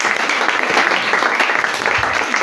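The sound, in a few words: audience applause in a church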